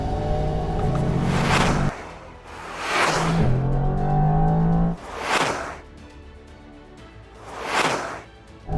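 A Mercedes-AMG GT R in race mode accelerates hard on a timed top-speed run, its engine surging in four loud revving pulls with whooshing rushes between gear changes, no talk.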